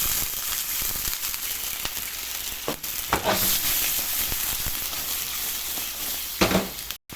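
Shrimps sizzle in a hot pan just after white wine is poured in, a steady close frying hiss with occasional bursts and crackles, and no voices.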